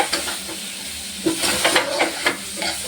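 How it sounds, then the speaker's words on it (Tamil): Vegetables tossed with salt, turmeric and sambar powder in a pan for Iyer-style sambar, giving a soft hissing sizzle with a few scraping stirs of a spoon, close and moderately loud with no talk. "இதை போட்டு நல்லா திருப்பியும் நம்ம கலரணும்"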